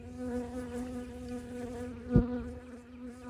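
Honey bees buzz around hive frames during a hive check, a close, droning hum with steady harmonics and one sharp louder flyby near the end, no speech.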